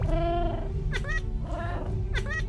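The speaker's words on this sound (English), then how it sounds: "Ooh, a cat." Cat in the Minecraft Pocket Edition video game meowing three times, loud and close, with drawn-out tonal cries spaced about half a second apart, no talk.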